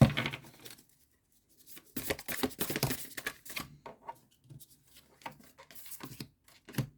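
Tarot cards being shuffled and handled, crisp papery riffles and slides in irregular bursts, close and fairly quiet with brief pauses between.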